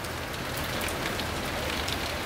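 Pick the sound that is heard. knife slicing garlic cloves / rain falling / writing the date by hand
rain falling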